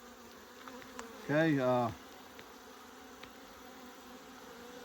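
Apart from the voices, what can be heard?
agitated bees in a hive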